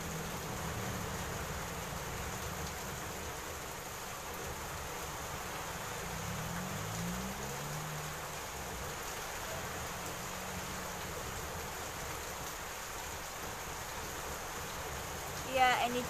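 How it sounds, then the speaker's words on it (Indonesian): Steady, dense hiss of heavy rainfall fills the whole stretch, loud and unbroken, with a faint voice murmuring beneath it. "Iya, deras banget nih, langsung hujan."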